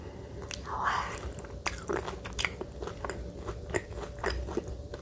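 A croissant from a Busan bakery is bitten and chewed close up, with crisp crunches and soft crackling chews repeating steadily.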